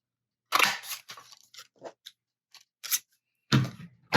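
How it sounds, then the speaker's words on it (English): Scissors cut through stiff paper in a series of crisp, crunchy snips with brief pauses between strokes, close up. "I have to get my scissors to really work on that"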